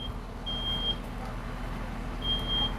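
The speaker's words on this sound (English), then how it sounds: "we have smoke alarm activation" A smoke alarm beeps during a side-by-side live burn demonstration, two separated high tones over a constant low rumble of machinery.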